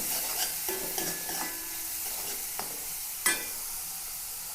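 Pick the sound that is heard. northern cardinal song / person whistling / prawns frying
prawns frying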